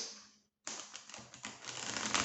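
Oracle cards being shuffled by hand for a love reading, a dense run of crisp papery riffling and slaps that starts after a brief pause and keeps building, close and fairly loud, with no talking.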